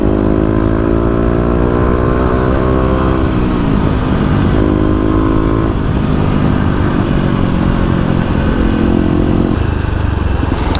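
A Kawasaki KLX250 motorcycle engine drones steadily while riding, its pitch rising and dropping through gear changes, loud and close with continuous wind and road noise.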